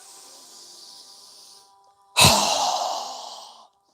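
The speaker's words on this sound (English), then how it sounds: "exhale with a strong breath as we lower our arms and hands down" A single strong, forceful exhale during a yoga breathing exercise bursts out loud and close after a quiet stretch, then trails off over about a second and a half.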